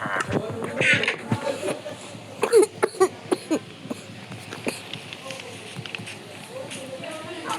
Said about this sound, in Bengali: আমার কাশিটা এখনো ঠিক হয়নি